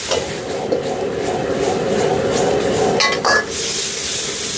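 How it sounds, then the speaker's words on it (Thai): Stir-frying holy basil pad kaphrao in an iron wok over high heat gives a steady, loud, dense sizzle and clatter, with metallic scraping and clinks of the spatula against the pan throughout, no talking. "จากนั้นนะเร่งไฟให้แรงแล้วก็ นะคั่วให้แห้ง"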